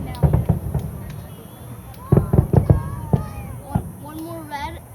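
Fourth of July fireworks finale on Fripp Island, with clusters of sharp booming bursts in quick succession, then a scattered few more, while people nearby chat and exclaim.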